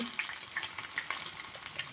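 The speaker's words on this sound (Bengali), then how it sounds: "মাছটা এইরকম একটু হালকা করে ভাজতে হবে" Hilsa fish frying in hot oil gives a steady, close crackling sizzle with scattered sharp pops, and no one speaks.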